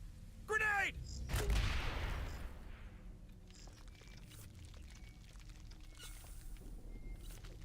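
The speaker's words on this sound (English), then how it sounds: "Grenade!" Grenade blast with rolling gunfire from a sci-fi squad shooter, Aliens: Dark Descent: a short shout, then a loud broadband explosion that fades into a scattered, lower rumble of shots.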